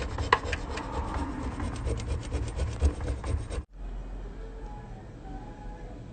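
A wire brush scrubs Harley 4-speed transmission parts with rapid, close, raspy back-and-forth strokes for a few seconds, then stops abruptly, leaving quiet background.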